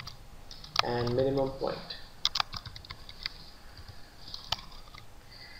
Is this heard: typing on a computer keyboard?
yes